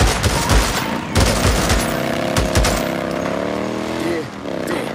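Rapid gunfire bursts ring out in the Days Gone video game, sharp cracks in clusters over a steady engine drone, with shouted voices mixed in.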